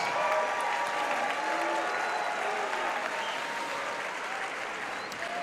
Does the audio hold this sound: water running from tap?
no